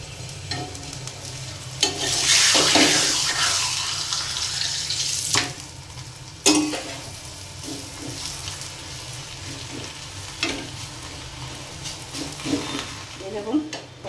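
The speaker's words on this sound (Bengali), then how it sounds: "আজকে ছোলার ডাল করছি। এই যে ভেজে নিচ্ছি এখন।" Chana dal, split chickpea lentils, fried in a pan with a continuous sizzle, punctuated by sharp scraping stirs and clinks of the utensil against the pan, close and fairly loud.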